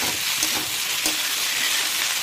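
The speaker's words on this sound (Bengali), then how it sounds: "তো এটা মোটামুটি আরও 5 মিনিট মতন ভাজা হবে" Onion greens and prawns crackle in a pan over high heat, a constant close sizzle with faint stirring scrapes and a few sharper pops, no one speaking.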